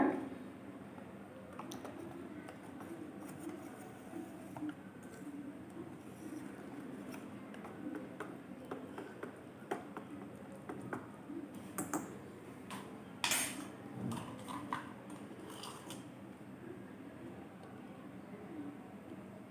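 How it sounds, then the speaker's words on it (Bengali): Batter of coconut powder, sugar and caramel being whisked by hand makes a soft, steady run of quick ticking and clinking strokes against a bowl, close and fairly quiet. "নারকেল গুঁড়ো চিনি আর ক্যারামেল দিয়ে খুব সুন্দর করে ফেটিয়ে নেবো আবার"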